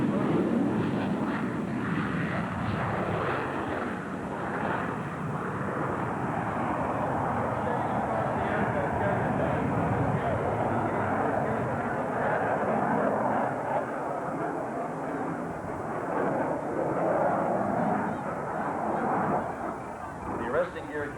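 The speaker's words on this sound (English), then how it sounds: "He'll be performing a touch and go in front of the demonstration area" F/A-18 fighter jet making a touch and go in front of a demonstration area, a loud sustained roar of jet engines that rumbles and swells steadily throughout, with a commentator speaking over it.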